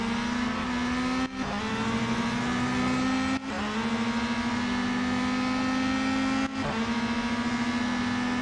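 A Peugeot 9X8 race car engine in the Real Racing 3 video game drones loudly and continuously, with three brief dips in pitch where gear changes break the high, steady whine.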